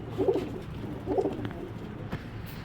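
Soft, low coos from a silver pigeon come in two short rounded phrases, close by, over a faint rustling background with a small click near the end.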